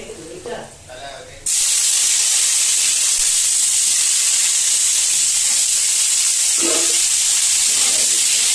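Tomato and capsicum drop into a hot pan and burst into a loud, steady sizzle that holds for several seconds after a brief stretch of talk.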